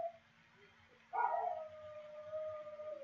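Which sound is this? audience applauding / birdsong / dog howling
dog howling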